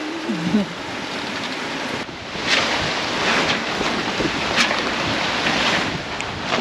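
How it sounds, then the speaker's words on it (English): Waves splash and surge around a sailing boat on the Indian Ocean, with a continuous rushing wash of water and wind, a brief stronger surge partway through, and no voices. "waves are splashing up"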